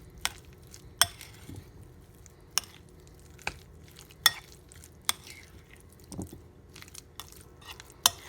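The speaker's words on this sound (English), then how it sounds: "And then we're just going to mix this together." A spoon stirs egg salad with mustard in a bowl, giving soft, wet mixing squelches punctuated by sharp taps and clinks against the bowl at irregular intervals, close and without talking.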